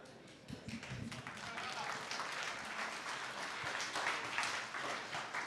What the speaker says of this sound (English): Is that claps for proud or ashamed?